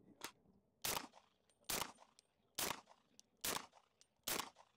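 Five suppressed gunshots fire at a steady pace about a second apart, each a sharp, loud crack with a short tail, taken from a comparison of a $300 and a $1000 suppressor. Faint voices sit low between the shots.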